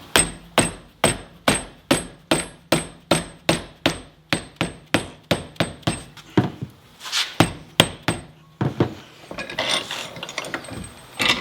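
Steady series of sharp metallic hammer blows, roughly two per second, on metal bar stock clamped in a vise being bent to 90 degrees, followed by irregular clanks and shuffling workshop noise toward the end.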